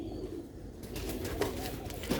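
Pigeons cooing close by, soft low throaty coos over a dense murmur of background noise, with a faint flutter or rustle near the end.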